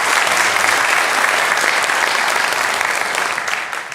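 A church congregation claps at the close of a Sunday morning service, a dense, steady roar of applause that holds loud throughout and tapers slightly at the end, with no talk over it.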